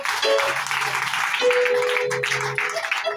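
A church congregation at a worship service applauds steadily, with sustained musical tones and a voice over the clapping.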